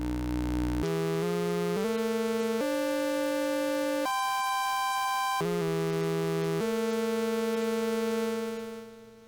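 A bright, buzzy synthesizer tone steps through a series of sustained pitches, loud and harmonically rich, with no voices.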